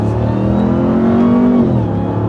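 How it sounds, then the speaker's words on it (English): A 2021 Ram TRX with a supercharged Hellcat V8 and GTHaus exhaust revs loudly up close, a rising engine drone topped by a distinct supercharger whine. "Did you hear the supercharger though? Yeah, you can hear the whine"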